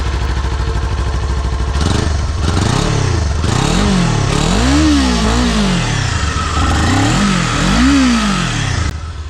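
A Kawasaki Z400 motorcycle with stock exhaust is revved in a series of about six quick blips, each rising and falling sharply from a close, steady idle, with no talking.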